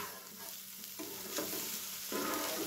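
A paneer sweet being stirred in ghee, soft scraping strokes over a low, even sizzle, close by and fairly quiet.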